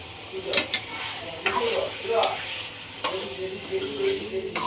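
Chicken curry with salt and chilli gets stirred in a pan, a spoon scraping and clinking in several strokes over a soft sizzle, with faint voices nearby.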